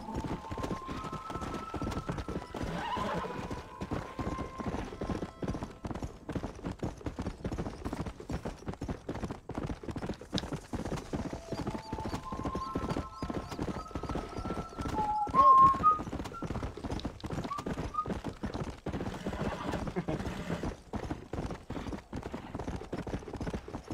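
Horse hooves clip-clop steadily at a gallop throughout a Red Dead Redemption game scene, with a short neigh or whinny rising around the middle, backed by game music and ambience.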